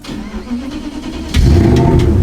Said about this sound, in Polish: Odpalamy zapłon pompa paliwa i wtedy tutaj start silnika.